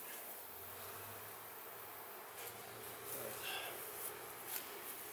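Faint steady buzzing of bees around an opened beehive being inspected, a low continuous hum with soft handling noises toward the end.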